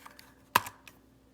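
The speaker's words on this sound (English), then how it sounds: "So I'm just gonna type ifconfig" A computer keyboard, used to type a command on a Raspberry Pi setup, gives one sharp, close key click with a couple of faint taps around it in a quiet room.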